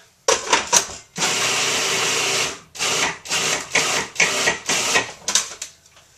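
A food processor fitted with an S blade chops onions for a raw tangy corn relish, its motor whirring loudly in a long run and then in a series of short pulses, with no talking.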